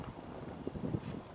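High wind blowing steadily and buffeting the microphone outdoors at a prehistoric site, a constant low rumble with no other distinct sounds.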